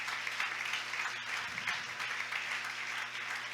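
A church congregation applauds during a Spanish-language sermon, producing a sustained wash of clapping at moderate distance over a low steady hum from the room's sound system.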